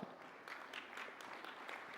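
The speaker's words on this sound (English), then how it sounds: "kindly give her a round of applause" Faint, distant audience applause at a regional sustainable energy week event, brief and soft, with scattered claps blending into a low wash.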